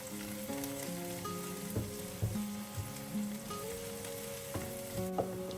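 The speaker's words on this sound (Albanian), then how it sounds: "në një tigan do të hedhim pak vaj dhe do të skuqim një qep mesatare" Medium onion frying in oil in a pan, a steady close sizzle with occasional clinks and scrapes of stirring, no voices.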